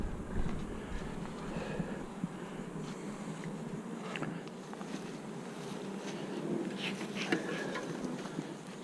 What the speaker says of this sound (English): There's a lot of bees up in the top of this baby here.